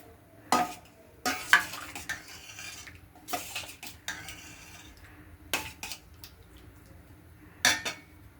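Dal being stirred in a pot after ginger-cumin paste is added, with repeated sharp scrapes and clinks of a spoon against the metal pot at irregular intervals over a quiet, steady kitchen background.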